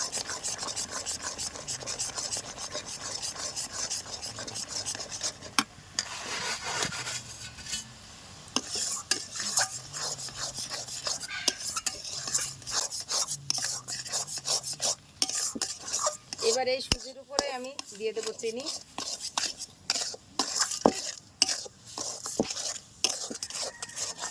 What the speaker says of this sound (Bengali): সুজিটা এক হাতে দিতে হবে আর এক হাতে নাড়তে হবে না হলে দলা হয়ে যাবে